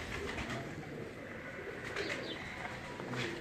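High-flying pigeons coo softly on a rooftop, their low murmuring calls blending into a steady background murmur with no clear break.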